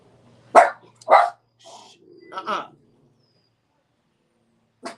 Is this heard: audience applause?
no